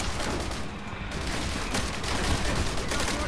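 Dense, sustained gunfire fills a battle in the video game Call of Duty: World at War, with rapid overlapping shots and steady loud noise throughout.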